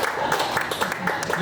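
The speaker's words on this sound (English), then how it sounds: "Stop, no more applause. No more applause." At a stand-up comedy show, an audience keeps up a brief burst of clapping and cheering, loud and close, blending with crowd chatter throughout.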